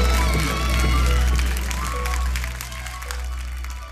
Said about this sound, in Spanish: eso merece un gran aplauso